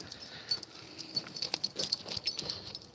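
A dog whimpering and whining indoors, a series of short soft high whines and snuffles in uneven bursts, fairly close, with no talking.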